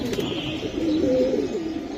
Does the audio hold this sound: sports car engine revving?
no